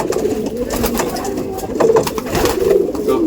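A domestic pigeon at a pigeon seller's in Brebes, Central Java, coos in loud, close, continuous throaty rolling bursts that swell and fall, with other birds faintly behind.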